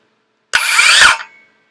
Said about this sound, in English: I really think that this spins a little slower than my corded circular saw